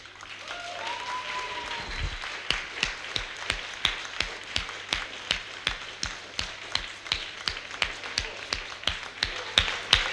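Concert audience applauding a band at a live music contest, steady rhythmic clapping in unison with sharp regular beats, loud and full, continuing throughout with no voices over it.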